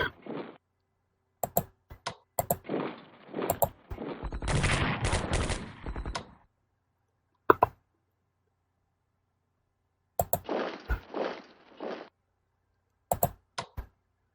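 Bursts of gunfire from an attack in the World War II strategy game Strategic Command WWII: World at War, several short sharp volleys separated by silence, with one longer sustained rattle in the middle, loud and without talk.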